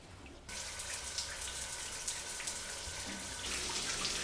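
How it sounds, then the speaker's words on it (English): Hot water running in a shower in a mountain home in Mexico, a steady close hiss of spray that starts abruptly after a moment of quiet and continues evenly with no voices. "I go to the shower, I'm cold, and thankfully, this one has hot water."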